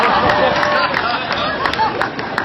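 Audience applause and crowd noise at an outdoor comedy show in a park: a steady, dense wash of clapping and cheering that fills the whole moment without a break.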